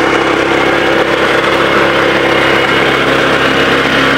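A Bhola Bhai Japanese self-propelled power tiller's small engine runs steadily and loudly at close range, a constant droning hum with no speech.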